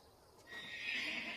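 Horses whinnying in a period martial-arts film setting, a loud neigh rising after a brief quiet start and holding steady, with no clear hoof beats.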